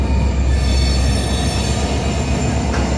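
A Union Pacific freight train on the Wallace Sub passes very close and loud, with continuous high metallic wheel squeal over a heavy rolling rumble and no voices.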